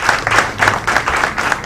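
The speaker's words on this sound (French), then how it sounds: "Je crois qu'ils méritent des applaudissements pour ça." Audience applause at a youth ministry visit event in Mbacké, loud and close, a steady burst of many hands clapping with no talk over it.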